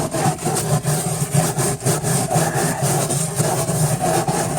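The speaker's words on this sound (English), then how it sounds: "this is why I use a stainless steel wire brush, will take all of the rotten wood out" Stainless steel wire brush scraping rotten, wet wood out of a deck, a steady rough rasping with repeated back-and-forth strokes, close and loud throughout.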